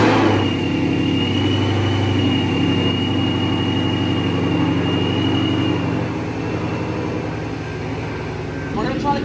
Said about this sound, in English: We're gonna let it idle, and fingers crossed.